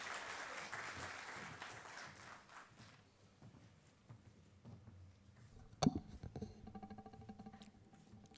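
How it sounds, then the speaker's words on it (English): Audience clapping for a guest speaker at an Engineers Day celebration at Jindal Power, Tamnar, fairly loud and dense for about three seconds, then fading into scattered claps and room noise with a sharp knock near the end. "Please welcome with a round of applause."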